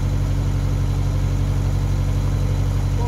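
Narrowboat engine chugging steadily at a low idle, a close, loud and even diesel rumble with constant vibration throughout and no speech.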